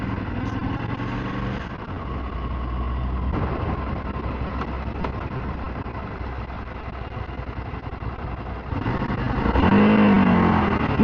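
An EBR Buell 1190SX V-twin sportbike on the road, its engine droning steadily for a stretch and then swelling louder near the end as it accelerates, with no talking.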